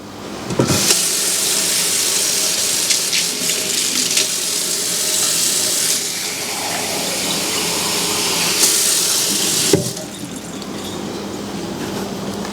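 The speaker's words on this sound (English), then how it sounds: "And I'm going to add hot water." Hot water pours in a steady, gushing stream for about nine seconds, close by, with no one speaking.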